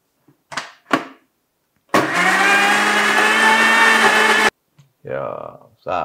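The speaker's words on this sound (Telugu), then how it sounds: "దాన్ని ఒక్కసారి మిక్సీ పడదాం, అరటిపండు వేసాం కాబట్టి" A kitchen mixie blender grinds ripe banana in one loud, steady burst of about two and a half seconds, with brief bumps and clatter before it and short voiced sounds after.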